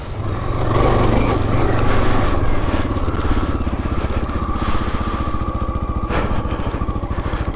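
A 1984 Honda XL600R dual sport motorcycle being ridden off-road, its single-cylinder engine loud and close with a steady, throbbing drone that rises slightly as it pulls through a gear.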